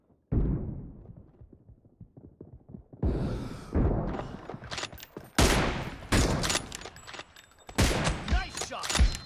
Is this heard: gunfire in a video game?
yes